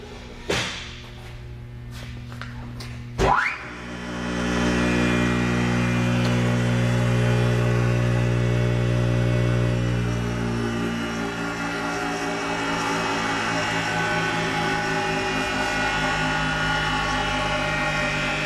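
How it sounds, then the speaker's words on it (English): Kamas Industri H14 hammermill starts with a sharp thump, its motor surging into a loud steady hum with harmonic whine, then slowly winding down and fading while still droning, no talk. "So he's turned it on, he's turned it off now, it's winding down."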